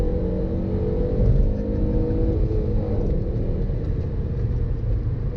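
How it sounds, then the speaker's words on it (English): A stock Volvo C30's five-cylinder engine runs with a loud, steady, close rumble that holds an even tone throughout, with no clear rise or fall in revs. "the 5-cylinder has one party piece that makes it an absolute gem of an engine"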